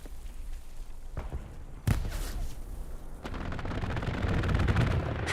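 A strafing-run airstrike in a multiplayer war game: a dull thud, then a sharp heavy boom, and after a short gap a dense, sustained burst of rapid gunfire that grows louder toward the end.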